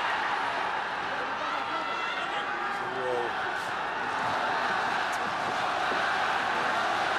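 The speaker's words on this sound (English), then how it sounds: "the crowd erupts" An arena crowd roars steadily at the start of a Fedor Emelianenko versus Naoya Ogawa fight, a dense, continuous wash of voices filling the space with no break.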